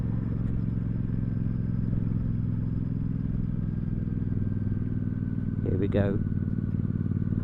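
Royal Enfield Super Meteor 650 motorcycle riding through a bumpy, twisty section with sharp bends, a steady close engine drone with wind noise throughout, and someone speaking briefly near the end.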